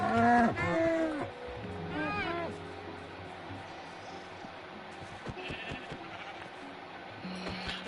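Sheep bleat in a farming video game, several wavering calls clustered near the start, then fading into a softer background of farm ambience with scattered faint clicks.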